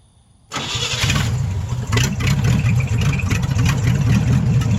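The small block Chevy V8 in a 1956 pickup cranks and catches almost at once, then settles into a loud, steady, slightly lumpy idle heard close up with no talking.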